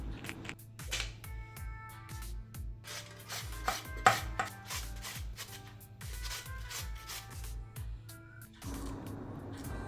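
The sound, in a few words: grating raw potatoes with a grater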